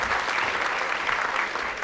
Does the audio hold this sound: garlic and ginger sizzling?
no